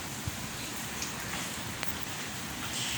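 Steady rain falls continuously after a full day of downpour, a dense, even hiss with occasional sharper drips close by and no voices.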